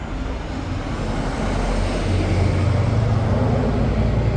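Big diesel 4x4 trucks pass by outside a mountain home, a steady low rumble of engines and road noise that swells slightly louder toward the end, with no talk over it.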